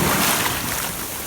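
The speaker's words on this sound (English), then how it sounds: "as long as I don't get smashed by the waves" Ocean waves surging at a beach where someone is metal detecting, a loud, broad wash of surf and wind rushing continuously close to the microphone.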